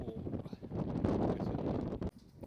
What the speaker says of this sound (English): as you can hear, it's a little bit windy.